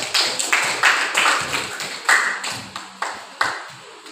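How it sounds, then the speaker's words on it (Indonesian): Schoolroom classmates give a brief round of applause, a loose patter of roughly a dozen sharp hand claps from just a few people, fairly near and fading quickly. "berikan sekali lagi tepuk tangan aplaus untuk kawan kita"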